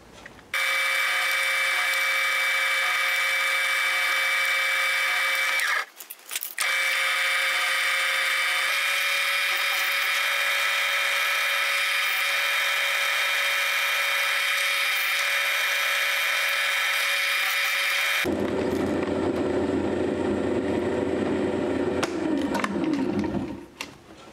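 A grinder whines steadily, taking the points off screws for a spinning wheel flyer, loud and close with one brief dip, then the pitch drops into a rougher, heavier grinding near the end.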